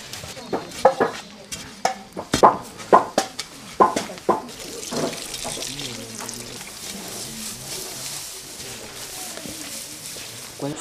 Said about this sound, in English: And then we apply some water.